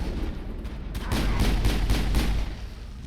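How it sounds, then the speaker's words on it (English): Gunshots in Mass Effect, a rapid burst of roughly five or six sharp cracks in quick succession over a rumbling game background, with no voices. "I'll shoot him."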